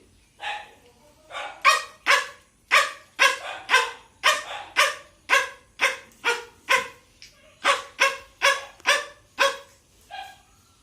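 A voice imitates a small long-haired dog's barking in a long string of sharp, yappy barks with brief pauses, close and loud, with no other sound.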